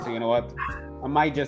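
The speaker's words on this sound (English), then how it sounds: "If you guys hear a dog in the background," A dog yips and barks in the background of a room, a few short bow-wow calls mixed under a steady stream of close conversational talk.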